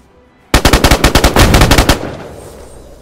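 Automatic gunfire in the video game DayZ on the Namalsk map: a sharp, loud burst of about a dozen rapid shots after a brief silence, followed by a fading echoing tail.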